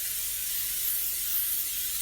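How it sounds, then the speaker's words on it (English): A can of cooking spray hisses steadily onto a casserole dish for a couple of seconds, a soft, even spray with no voices over it. "I'm going to spray it"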